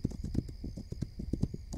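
Horse hooves clip-clop in the survival game This Land Is My Land, a brisk, even run of close, crisp hoofbeats with no pauses.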